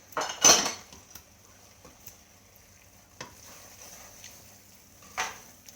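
Leek risotto with parmesan and butter being stirred in a pot, a few distinct metallic scrapes and clinks of a utensil against the pan, one loud at the start and others spaced out, over a near-silent background.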